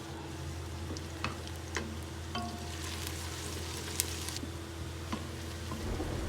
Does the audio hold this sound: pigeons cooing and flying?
no